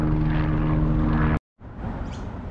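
An SES emergency-service helicopter passes overhead near the flooded North Richmond Bridge on the Hawkesbury River, Australia, a loud steady rotor and engine drone that cuts out abruptly partway and then returns.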